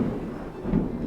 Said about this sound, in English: Another booming sound of thunder shakes the rest.